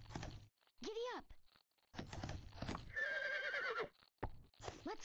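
A horse in the video game Barbie Horse Adventures whinnies loudly over rhythmic galloping hoofbeats, with a rising neigh in the middle, while a person talks in between.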